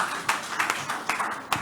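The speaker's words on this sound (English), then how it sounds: "Please give him a round of applause." Audience clapping at a panel session of an annual conference and dinner, a short burst of scattered hand claps at moderate volume with no voices.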